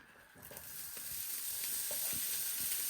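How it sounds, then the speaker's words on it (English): Onion, garlic and pepper sizzle in hot oil with a steady, close frying hiss and a few soft stirring knocks. "You want to fry them for 3 to 5 minutes."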